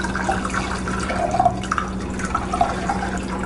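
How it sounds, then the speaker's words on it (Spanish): Cold water poured over freshly boiled eggs in a small cooking pot in a home kitchen, giving a steady, moderate trickle with scattered drips and splashes and no voices. "Vamos a colarlos y les vamos a poner agua fría"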